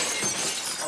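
Glass shatters in Telltale's The Walking Dead Season 3 video game, a single loud, bright crash with a hissing spray of breaking shards lasting under a second.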